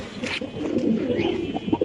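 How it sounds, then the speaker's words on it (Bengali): Pigeons coo steadily at a pigeon farm in Mirpur, a soft, low, rolling murmur of several birds close by, with a few brief louder coos near the end and no talking. "গ্যারান্টি করা কবুতর।"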